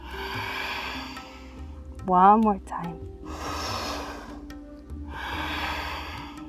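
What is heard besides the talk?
deep breathing in and out during yoga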